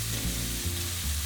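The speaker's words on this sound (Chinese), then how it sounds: "炒锅加油，下肉末1/3的蒜蓉" Minced meat and garlic stir-fry in an oiled wok, a dense steady sizzle heard up close for a brief moment, with no voices.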